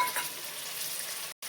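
Tomatoes, carrot pieces and peas fry in a pan, giving a steady close sizzle with light stirring, broken by a brief silent gap near the end.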